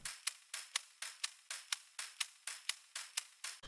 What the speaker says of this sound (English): I then added another groove loop, which sounds like this.